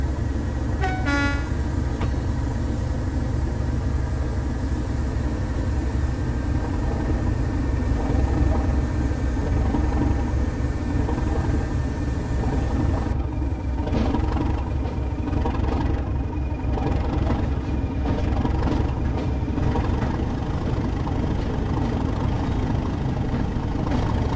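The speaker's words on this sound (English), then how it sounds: "the sounds of this loco is really nice. It's got good sounds on the engine sounds wise" A British Rail Class 37 diesel locomotive in a train simulator game rumbles steadily and loudly throughout, with a horn toot near the start and the engine note shifting partway through.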